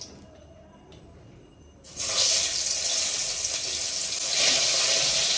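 Fish hits hot oil in a wok and bursts into a loud, sustained sizzle and crackle after a quieter moment of small clicks and handling sounds.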